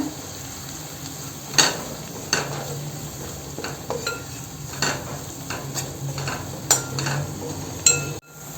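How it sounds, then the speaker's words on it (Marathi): Chopped onion, turmeric and Malvani masala sauté in hot oil for a Konkan mixed vegetable dish, giving a steady close sizzle broken by repeated spatula scrapes and clinks against the pan. "मालवणी मसाला हे पण आपण तेलावरती आहे ना असं छान परतून घेऊया."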